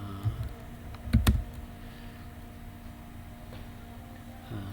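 Faint typing on a computer keyboard: a few soft, scattered key clicks, including a short cluster of taps, over a quiet room hum.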